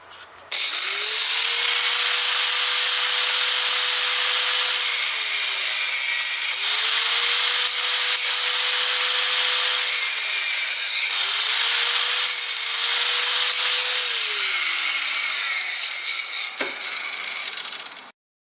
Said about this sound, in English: Now I just need to put a pin in here and drill the second hole.